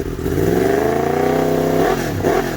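A Gen 1 Yamaha MT-10 motorcycle with stock exhaust revs up steadily and loudly close by, holding a rising drone before easing off and blipping again.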